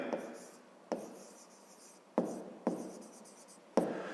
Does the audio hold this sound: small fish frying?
no